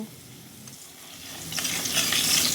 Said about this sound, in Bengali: ওই তেলে আলুগুলো দিয়ে কিছুক্ষণ ভেজে নেব।